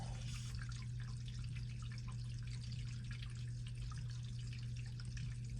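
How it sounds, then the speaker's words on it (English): Water drains from plumbing under a house after a water filter change, heard as a faint, steady trickle with soft drips over a low hum. "And now wait for it to, for the water to stop draining. You hear the water?"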